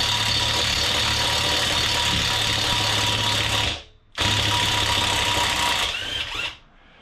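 An impact gun removes Loctite-secured sprocket bolts from a 1998 Kawasaki ZX9R wheel in two loud, sustained bursts of rattling hammering, split by a brief pause.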